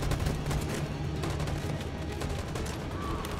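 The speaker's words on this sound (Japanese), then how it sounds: "あ、援護射撃。" Covering-fire gunshots in the video game Detroit: Become Human, a dense steady barrage of rapid shots without pause, fairly loud throughout with a low hum underneath.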